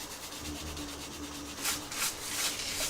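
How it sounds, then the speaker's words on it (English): A soft brush sweeps excess glitter off a paper card, making close scratchy brushing strokes that grow louder in a few bursts near the end. "you will need a soft brush to brush off the excess"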